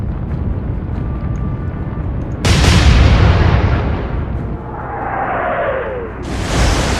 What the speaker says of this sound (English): It's just going with the forward turret firing.